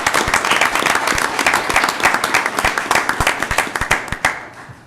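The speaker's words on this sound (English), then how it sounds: "Let's give them a round of applause for coming." A room full of people at a city council meeting applauds steadily, a dense wash of clapping with sharp individual claps standing out, tapering slightly toward the end.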